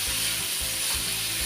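Cluster beans and okra sauté in hot oil, a loud, continuous close-up sizzle with soft stirring scrapes and no voices.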